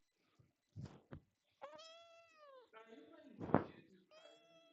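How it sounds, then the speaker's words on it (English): A cat meows several times in a row, the drawn-out, pitch-bending calls fairly faint and separated by short pauses, with one louder, harsher cry in the middle. "I hear the cat."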